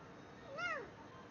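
A cat gives a single short, clear meow partway through, quiet and fairly close, standing out over a low background hum.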